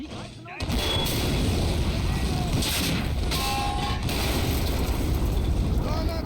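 Tank cannon fire and gunfire in the war video game Army Men, a sustained loud barrage of blasts and booms with faint voices underneath.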